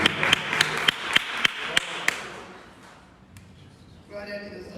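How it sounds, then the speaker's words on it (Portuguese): Worship congregation in a church clapping a brisk, regular beat of about ten claps, then fading out as a voice carries on near the end. "e as palmas louvam o Senhor"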